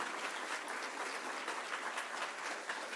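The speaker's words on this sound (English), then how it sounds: "give them a round of applause right now" Dense, steady clapping from a large crowd at a 2023 closing celebration fills the whole stretch, continuous and fairly distant.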